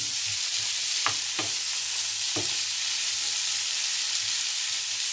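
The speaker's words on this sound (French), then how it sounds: "Je mélange bien." Chickpeas with chorizo stirred in a sizzling frying pan, a steady hiss of frying with a few scraping stirs of a utensil early on, close and without talk.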